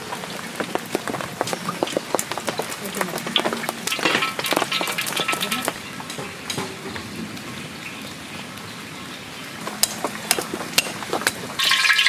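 White cooking oil going into a wok in a Bengali village kitchen, heard as a steady crackling, rain-like hiss with scattered sharp pops, close and fairly loud for about twelve seconds with no voices.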